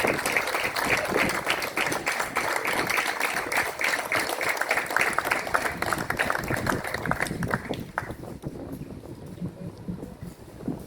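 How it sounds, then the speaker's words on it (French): A crowd applauds at an outdoor ceremony in Saint-Ghislain blessing new giant festival figures, with dense, steady clapping that holds for about eight seconds before thinning out into quieter background noise. "Applaudissons-les"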